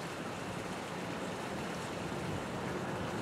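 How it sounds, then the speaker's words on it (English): Rainwater rushes through a small pipe in a gorge along an abandoned railroad bed after a heavy storm, a steady broadband roar with no pauses, moderately loud and without voices. "you can even hear the water going underneath that little pipe right down there."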